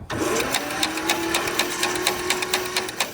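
An old tractor engine abandoned for fifteen years is cranked over, producing a rapid, regular mechanical chatter with a steady whirring tone, close and fairly quiet.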